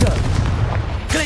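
A Confringo fire spell explosion in Hogwarts Legacy, a short booming blast right at the start that decays within about a second.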